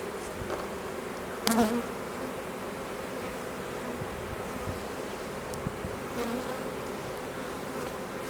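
Honey bees from a newly installed package hum continuously inside a hive, a soft, dense buzz with occasional louder passes of single bees close by.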